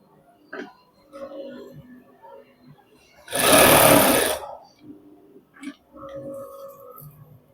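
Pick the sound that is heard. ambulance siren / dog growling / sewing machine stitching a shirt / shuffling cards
sewing machine stitching a shirt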